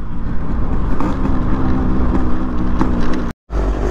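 Yamaha RX 100 two-stroke motorcycle engine pulled into a sudden wheelie on the road, loud continuous engine roar with wind rumble, close, cutting out briefly near the end.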